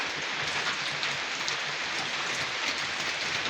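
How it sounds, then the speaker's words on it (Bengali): Heavy rain falls steadily without letup, a dense, even hiss of drops striking surfaces during flooding, with no voices present. "দেখুন বৃষ্টি হচ্ছে, অবিরত বৃষ্টি হচ্ছে।"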